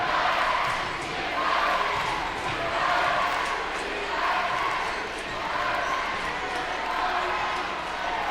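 A varsity high school basketball crowd in a packed gym roars in a sustained wave of cheering and shouting, loud and continuous with rhythmic swells, while game action carries on underneath.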